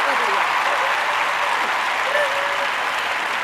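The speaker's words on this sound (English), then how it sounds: "there's also different levels of clapping that I want to play with" A live improv comedy audience, including people up in a balcony, claps in a dense, steady burst that holds loud and even throughout.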